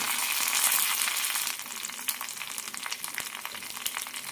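Grated coconut fries in oil with popped mustard seeds, red chillies and curry leaves for an Onam sadhya dish, a loud continuous sizzle that eases slightly midway and keeps crackling throughout, with no voices.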